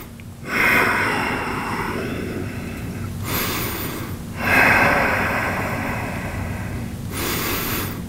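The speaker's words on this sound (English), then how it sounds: "Take a couple of breaths." Deep, slow breathing during a lower-back yoga stretch, three long audible inhales and exhales close to the ear, each rising in a soft airy rush then easing off, with no talk over them.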